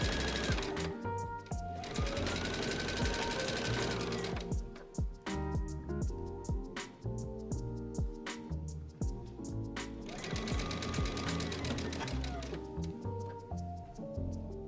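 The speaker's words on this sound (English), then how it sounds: "I can just sew right along that flat seam" A sewing machine stitches a flat seam on a rail fence quilt made from jelly roll fabric strips, running steadily with a rapid mechanical clatter, close and continuous, pausing briefly now and then.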